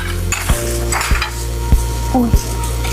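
Chicken curry sizzles steadily in a pot as a spoon scrapes through it about four times at even intervals, with a low constant hum of frying underneath and no talking.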